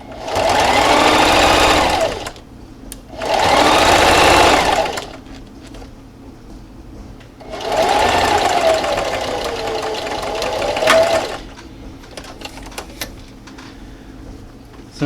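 Sewing machine stitching a fabric dust mask, running in three loud steady bursts of rapid motor-driven stitching with short pauses between, close and alone, ending in quiet handling noises.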